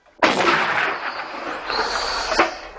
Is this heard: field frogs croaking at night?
no